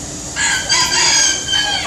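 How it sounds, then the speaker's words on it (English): A very loud chicken crows at KL Bird Park, the long call rising after a brief lead-in and holding strong to the end, with no talk over it. "And that's a very, very loud chicken."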